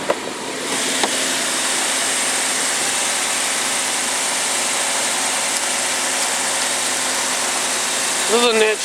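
A 2009 Nissan Skyline 370GT with a naturally aspirated 3.7 litre petrol V6 idles steadily under the open hood, a constant close engine hum with a brief higher whir near the end.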